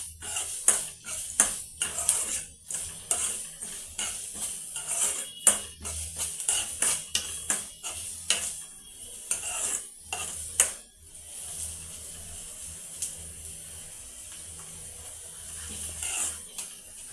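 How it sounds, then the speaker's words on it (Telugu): Onions frying in a pan over a medium flame give a steady sizzling hiss, broken by frequent sharp clinks and scrapes of a utensil stirring against the pan. There is no talk. "కొద్దిగా మీడియం ఫ్లేమ్లో పెట్టుకొని ఆనియన్స్ బాగా ఫ్రై చేసుకోవాలి."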